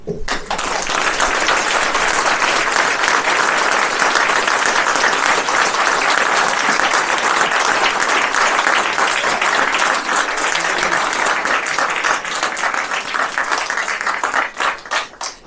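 An audience at a hospital supervisory board speech in France applauds at length, dense, loud clapping that holds steady for about fifteen seconds and thins slightly toward the end.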